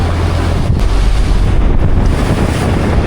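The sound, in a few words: storm wind and waves at sea around fishing boat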